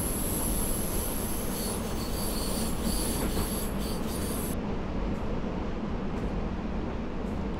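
A train rolling downhill in Train Simulator 2018 on the Mittenwald line, a loud, unbroken rumble of wheels on rails with a high metallic whine that cuts off halfway through.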